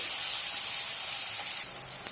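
Onions, green chili and tomatoes fry in a pan with a steady, loud sizzle that hisses evenly throughout, close by and without talking.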